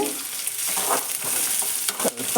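Sliced onions frying in a hot pan with cumin and mustard seeds for a potato palya, a steady close sizzle with light stirring scrapes and a few sharper crackles near the end.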